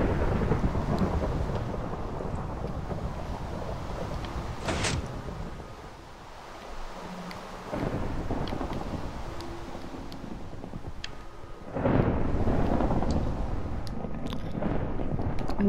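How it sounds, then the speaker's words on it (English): Thunderstorm in the game Minecraft: continuous loud rain hiss with rolling thunder that swells near the start and again at the end, with quieter lulls between the rumbles. "It's thunderstorm."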